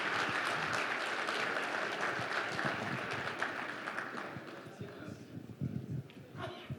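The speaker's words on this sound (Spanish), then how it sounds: "Les pido un aplauso, que fueron los autores intelectuales para ellos" Audience applauding the panelists at an economic and geopolitical panel on nearshoring, a dense steady clapping across the room that slowly thins toward the end, with some talk beneath it.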